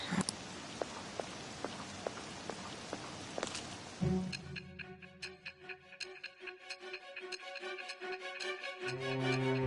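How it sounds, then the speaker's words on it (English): Steady hissing rain in a PS4 video game, with scattered drops ticking on a surface, then the rain recedes beneath a tonal, ticking musical texture in the second half. "This rain ain't too bad."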